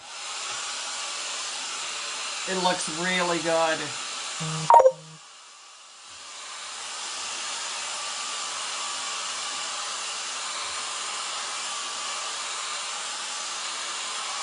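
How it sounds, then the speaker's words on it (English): Blow dryer running, a steady close hiss and whoosh that drops out briefly midway and then returns and continues steadily; someone speaks briefly over it before the break. "And I'm going to just hit it with the blow dryer."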